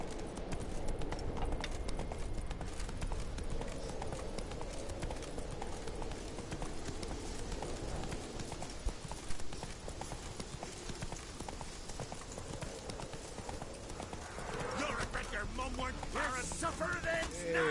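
Hooves clip-clop rapidly as the horse Roach gallops in The Witcher 3 video game, a steady driving rhythm throughout, with game sounds and voices mixed over it.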